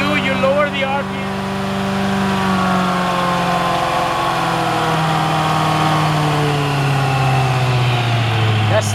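Amtex 2545 truck-mount carpet cleaner engine running steadily and loud, its hum gradually dropping in pitch as the RPM is lowered, with a voice talking over it.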